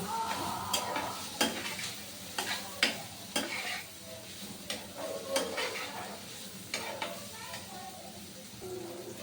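Onions and sauce for a chicken sandwich filling are stirred in a hot pan: a spoon scrapes in a steady, repeated rhythm over a low sizzle, close and clear.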